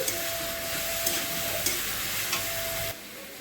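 A spice paste of garlic, ginger, green chili and tomato sizzling loudly in a pan, with a steady hiss and a few light stirring scrapes before the sizzle drops away abruptly near the end.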